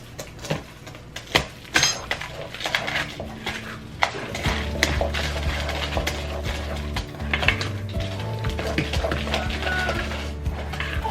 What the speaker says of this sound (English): And now I'm gonna mix this all together.